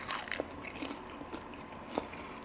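Close, crisp crunches as teeth bite into a fried Kyochon soy-garlic chicken wing, then a few quieter chewing crackles. No one speaks.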